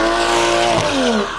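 A BMW drifts in donuts on a street in Mexico, tires squealing in a loud sustained close screech over engine roar, the pitch sliding downward as the slide eases.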